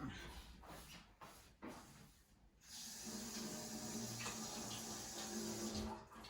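Water runs steadily from a tap in a home kitchen as hands are rinsed of raw egg during bread making, a broad even hiss that stays up close and continuous for several seconds after a brief quieter start.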